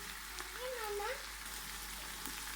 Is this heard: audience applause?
no